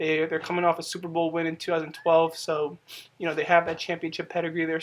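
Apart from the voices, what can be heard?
No everyday noises stand out.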